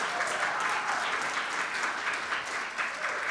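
Audience at a high school band concert claps steadily for a stand-in tuba player, a moderate, even patter of many hands in a hall.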